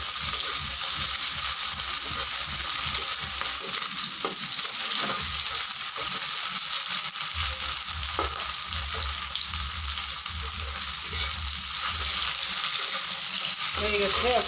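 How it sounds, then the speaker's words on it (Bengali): Tomatoes frying in oil in a pan for an Indian egg curry, a continuous bright hiss of sizzling held steady for a long stretch, with a few faint knocks and stirring touches, close by. "টমেটোটা হালকা ভাজা হয়ে যাওয়ার পরে আমি মশলাগুলো দিয়ে দিব"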